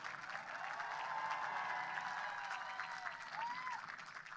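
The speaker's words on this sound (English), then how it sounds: "give them a round of applause as well" An audience at a graduation ceremony applauds the graduates' loved ones, a steady wash of clapping that holds strong for about four seconds and stays moderately loud throughout, with no voices over it.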